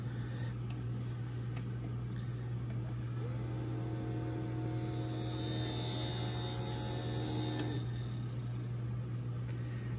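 A 1985 Shintom VP-5000 portable VHS player with monitor runs with a broken belt. A low electrical hum continues throughout, and a quiet whirring mechanical drone swells in the middle before fading.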